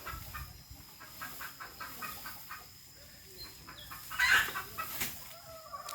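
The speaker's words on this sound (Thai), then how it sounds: "เป็นไรน้องไก่เนาะ" Chickens cluck softly outdoors, scattered short calls at moderate distance, with one louder burst of clucking partway through amid faint background noise.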